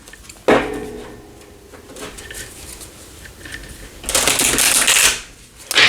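A deck of oracle cards being shuffled close by, a sharp riffle at the start, soft handling and tapping through the middle, then a longer, louder riffling burst near the end.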